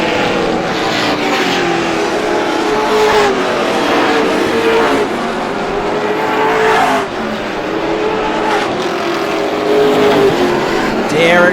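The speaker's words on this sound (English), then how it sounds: "Josh King in car number 21 makes his way around as King sits in the 7th spot on the field." Race cars circle a speedway oval in a championship 100-lap event, their engines roaring steadily and loudly throughout with rising and falling passes, mixed with commentary talk over the track noise.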